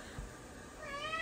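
A male cat, due to be neutered and kept from food, lets out one drawn-out, rising meow indoors toward the end, close and moderately loud over a quiet room hiss.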